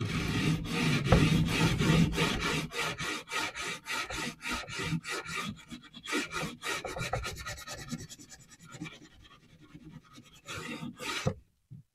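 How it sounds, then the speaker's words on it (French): A folded sanding disc is rubbed by hand along the grain of a varnished wooden furniture piece, a quick rhythmic rasp of back-and-forth strokes that slows and softens toward the end. "je vais venir frotter dans le sens des fils du bois, ça c'est très important, pour venir retirer mon excédent de vernis et de crasse"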